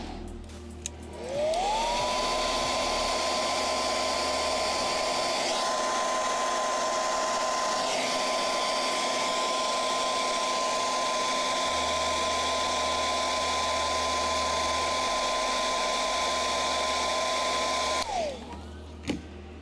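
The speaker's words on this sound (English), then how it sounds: "hair dryer this for a second again." A hair dryer switches on, rises to a steady high whine and blows continuously for about sixteen seconds, then winds down and stops.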